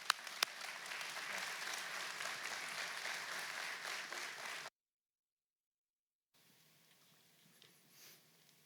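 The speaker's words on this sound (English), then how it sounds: "Let's give him a round of applause." A crowd at a Florida Highway Patrol memorial gathering gives Major Chandler a round of applause, steady moderate clapping for several seconds that stops abruptly, leaving a faint quiet room.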